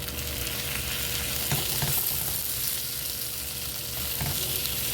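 A fish cake mixture seasoned with soy sauce and chili paste sizzles in a hot pan while being stirred, a continuous close frying hiss with soft scraping, all under the steady drone of a kitchen exhaust fan.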